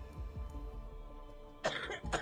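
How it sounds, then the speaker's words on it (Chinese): Two quick coughs sound in the Plague Inc: Evolved disease game, close and sharp against a faint, low game soundtrack, with no voices. "产生的咳嗽"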